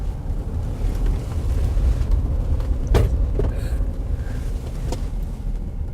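A car driven aggressively through a corner, heard from inside the cabin as a loud, steady engine and road rumble with a couple of brief knocks and creaks.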